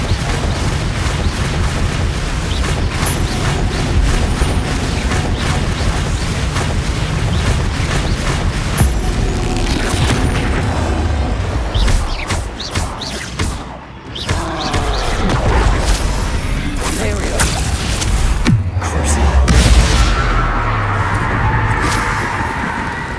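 Explosive Bombardo and Confringo spell blasts in the Hogwarts Legacy video game: loud, dense booms and crashes pile up continuously, with a brief lull midway before the blasts surge back.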